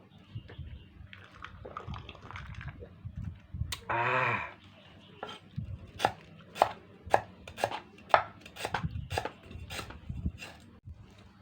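A knife chops herbs on a board for baked chicken, giving a run of sharp, evenly spaced taps, close and fairly loud, after a stretch of quieter handling noise and a brief rustle.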